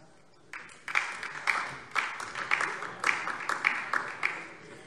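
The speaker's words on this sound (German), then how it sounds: "Applaus" A crowd applauds in steady rhythmic clapping that starts abruptly and keeps a regular beat, moderately loud across a parliamentary chamber.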